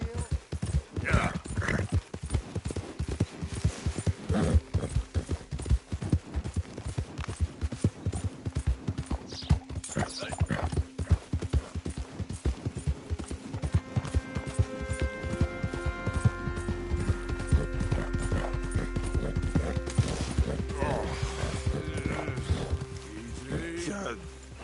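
Horse hooves clip-clopping at a brisk, steady pace in the game Red Dead Redemption II, loud and continuous, with speech over it and other game sounds building toward the end.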